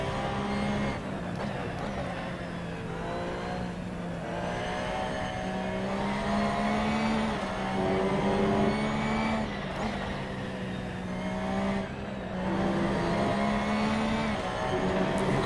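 A race car in the Assetto Corsa video game on the PS4 at the Red Bull Ring in Austria, powering out of a corner during a championship race: a loud, steady engine drone climbing in pitch through several gear changes.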